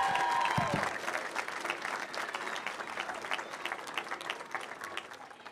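Audience applause for the Turning Point team at a crowded campus event, loud sustained clapping from a large crowd that stays steady and dense, with scattered cheers mixed in.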